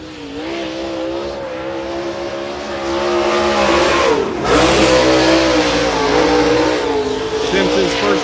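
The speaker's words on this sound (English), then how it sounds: "Iowa City's Tim Simpson about to bring his Longhorn Clements powered machine onto the racetrack." Late model race car with a Longhorn chassis and Clements engine at Cedar County Speedway howls steadily on the track, pitch rising and falling as it accelerates through the laps, loud and close, with an announcer talking over it.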